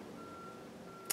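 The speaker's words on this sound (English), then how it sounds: "you're hearing that beeping noise from outside." A construction vehicle reverses outside, giving a faint, steady tonal beep that runs throughout under low background noise, with a brief louder knock at the very end.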